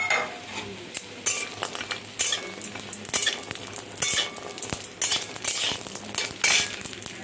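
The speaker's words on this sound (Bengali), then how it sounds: "বড়িটা ভেজে নেব।" Sun-dried lentil bori frying in hot oil in a wok, bursts of bubbling sizzle rising and falling as they are stirred, with occasional scrape and clink of a spatula against the pan, close and without talk.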